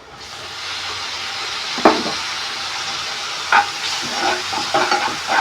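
Chopped tomato frying in a pan of hot oil for a Maggi breakfast, giving a steady broad sizzle with intermittent scraping stirs and a few sharper clacks of the spatula, close and fairly loud with no talking.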